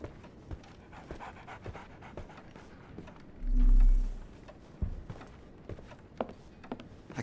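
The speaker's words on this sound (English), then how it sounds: "So, Barnes has a dog now." A dog in the video game Sherlock Holmes The Awakened pants in quick, rhythmic breaths throughout, close by, with a low thud partway through.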